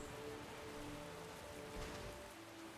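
Steady rainfall in the Pokémon Violet video game, a soft continuous patter with faint tonal music lines underneath, no speech.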